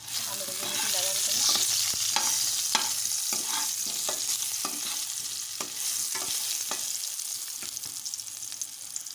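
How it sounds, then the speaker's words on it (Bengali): Potatoes frying in hot oil for a home-cooked chicken curry, a steady crackling sizzle broken by repeated scrapes and clacks of a spatula stirring, close and fairly loud with no talking. "আলুটা ভেজে নেব লাল লাল করে।"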